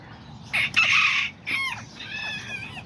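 A rooster crows loudly close by, a full cock-a-doodle-doo with a couple of strained, raspy calls following.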